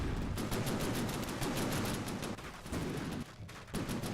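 Continuous volleys of warship cannon and gun fire in a boat-building game, dense overlapping shots crackling in a steady rhythm with a brief lull near the end.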